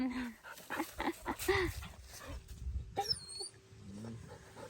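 Dogs barking and yelping loudly in bursts, mixed with growls and whines, with voices talking in the background.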